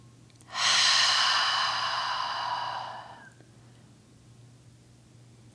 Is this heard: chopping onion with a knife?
no